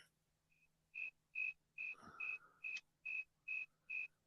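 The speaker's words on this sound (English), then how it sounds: "Oh man, the crickets are loud this year." Crickets chirping outdoors, a steady series of about eight clear, high-pitched chirps repeating at an even pace, fairly close, with a brief low rustle partway through.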